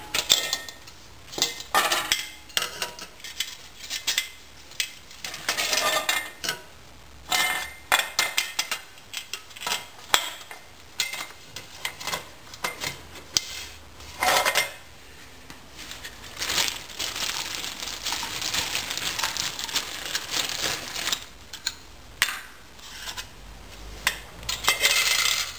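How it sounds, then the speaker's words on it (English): Metal camping pots and a frying pan clatter and clink repeatedly as they are handled and set down, with irregular bursts of scraping throughout. "It has two pots in it and a frying pan."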